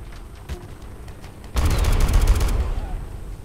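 Gunfire in the video game Joint Operations: Typhoon Rising: faint distant shots at first, then a sudden loud burst of rapid automatic fire lasting about a second, followed by fading rumble.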